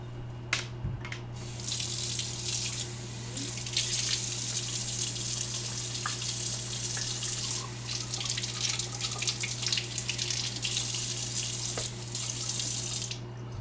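An espresso machine's portafilter rinsed under a running tap after the spent coffee puck is knocked out: a steady, fairly close rush of water splashing into a sink for the whole stretch, with small drips and clatters, no talking.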